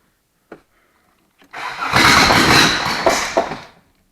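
A diesel engine running on petrol cranks on its starter after a couple of short clicks, then turns over loudly and roughly for about two seconds before winding down, close by.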